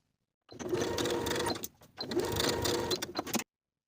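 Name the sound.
sewing machine sewing placket edge of top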